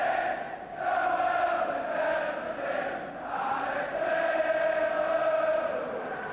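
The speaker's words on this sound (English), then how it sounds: "Big and noisy crowd." Big, noisy football stadium crowd at Liverpool versus Watford, a continuous roar with swelling chants and shouts rising and falling, distant and sustained with no clear speech.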